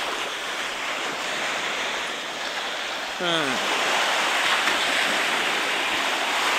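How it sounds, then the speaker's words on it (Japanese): Sea waves wash steadily onto Omura beach in Toyama, Japan, as a continuous, fairly close roar of surf. A brief murmur from a person's voice sounds near the middle. "波がちょっと増えてきた気がするな。"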